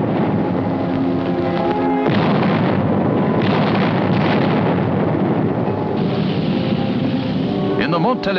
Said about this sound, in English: Artillery engaged in a duel with enemy guns.